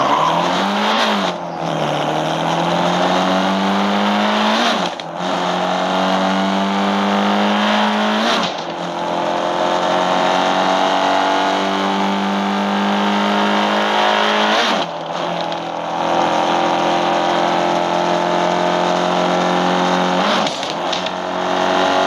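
A car engine in a racing video game revs loudly and steadily on a state road, its pitch climbing through repeated gear shifts with brief dips, with no one speaking.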